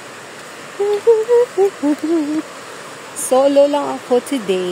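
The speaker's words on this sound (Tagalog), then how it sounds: "Yan na yung agos ng tubig na ako. Sobrang lakas. Kasi ilang araw na umuulan." Rushing current of a reservoir stream at Tai Tam, swollen after several days of rain, gives a steady broadband hiss beneath a person speaking close by.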